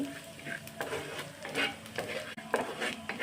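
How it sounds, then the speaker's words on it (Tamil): Prawns and ridge gourd coated in masala being stirred in a pan, a steady sizzle of frying under repeated scraping spoon strokes, close and moderately quiet. "இதையும் சேர்த்து நல்லா மிக்ஸ் பண்ணி விட்டுக்கோங்க"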